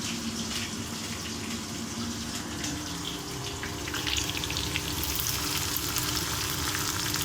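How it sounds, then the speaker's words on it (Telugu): Onions, green chillies and curry leaves fry steadily in a pan, giving a continuous close, crackling sizzle throughout with no talking. "బాగా ఫ్రై కావాలండి. ఫ్రై అయిపోయిందండి ఉల్లిగడ్డ."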